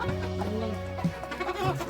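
Chickens cluck repeatedly close by, with a sustained tonal call followed by shorter broken clucks from the hens, steady and fairly loud with no talking.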